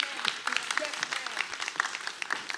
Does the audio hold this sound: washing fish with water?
no